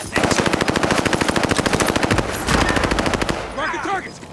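Rapid automatic gunfire in Call of Duty Warzone, loud sustained bursts of machine-gun fire that stop briefly and then resume, followed by a short stretch of voice-like chatter at the end.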